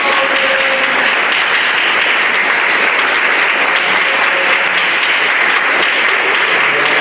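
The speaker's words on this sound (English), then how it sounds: "And big round of applause." Parents and guests at an elementary school fifth grade completion ceremony applaud in steady, loud, continuous clapping that fills the room for about seven seconds, with a faint tonal hum underneath.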